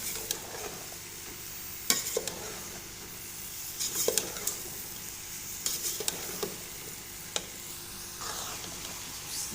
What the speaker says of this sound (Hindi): ये हम मिक्स कर रहे हैं अभी आलू गोभी को मसाले के अंदर